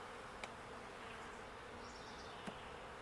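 Honeybees swarm around a Flow hive during an inspection, a dense continuous buzzing drone close by with a couple of faint taps, steady and unbroken throughout.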